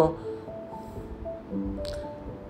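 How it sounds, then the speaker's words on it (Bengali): Flour being mixed by hand into a moist biscuit dough in a bowl, giving soft, wet squishing and sticky squelching sounds, close and quiet with faint tonal background. "এবারে এক বাটি ময়দা আমি ভালো করে মিলিয়ে নেব।"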